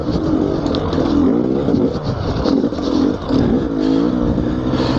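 A Gas Gas enduro motorcycle engine revs on a hard enduro circuit, a busy, rough blat rising and falling in quick bursts with some clatter, loud and fairly close with no talk over it.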